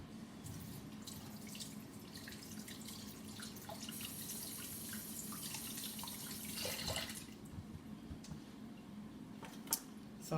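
Water running from a tap while face cream made with turmeric, honey and aloe vera gel is washed off, a steady close splashing stream with occasional drips and hand movements, no talking.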